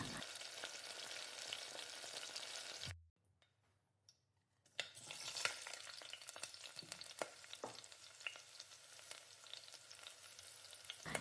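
Mint leaves sizzle and crackle loudly in a hot pan while being stirred with rock salt. The frying cuts out for about two seconds, then comes back just as busy.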